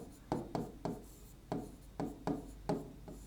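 Chalk taps and scratches on a board in a classroom science lesson, seven short strokes in an irregular rhythm, fairly close but quiet against a faint background hum.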